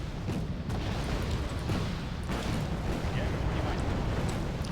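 A continuous, dense roar of battle in the strategy game Wargame: Red Dragon. Explosions and artillery impacts rumble without pause, with faint sharper hits now and then, and a voice may be talking over it.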